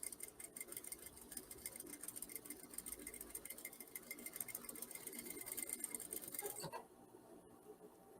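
Sewing machine running a straight reinforcing seam along the edge of fabric, a faint rapid mechanical stitching chatter lasting about six and a half seconds before stopping, leaving near silence.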